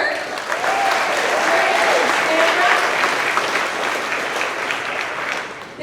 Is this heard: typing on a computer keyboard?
no